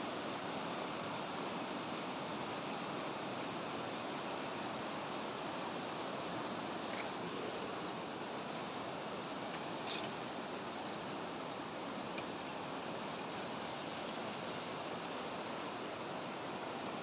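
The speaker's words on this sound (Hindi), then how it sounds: "पानी का फ्लो।" River swollen after two to three days of continuous rain rushes past in a steady, broadband roar, constant and fairly near throughout with no voices.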